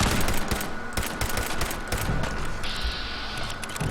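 Missile fire and explosions in the Fallout 4 video game, a dense barrage of rapid blasts and crackling gunfire that keeps going loud and steady for several seconds, with a hissing whine rising near the end.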